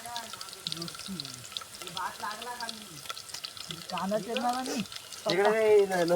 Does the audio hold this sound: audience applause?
no